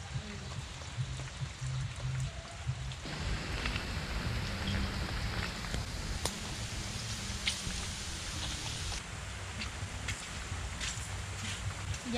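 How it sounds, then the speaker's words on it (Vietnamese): Steady rain falls in an outdoor rural kitchen setting, a dense continuous hiss and patter that holds evenly throughout, with faint clatter of household activity underneath. "Mưa lớn quá ngồi về cũng được."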